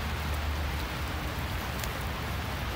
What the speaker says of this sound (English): Still rainy.